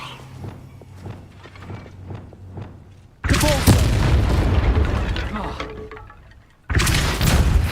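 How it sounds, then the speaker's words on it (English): The Levioso spell is cast in the video game Hogwarts Legacy. A spoken incantation is followed by a sudden loud, booming whoosh of magic that holds for a few seconds, and a second burst comes at the end. "Levioso!"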